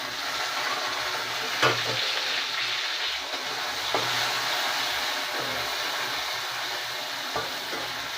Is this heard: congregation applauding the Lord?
no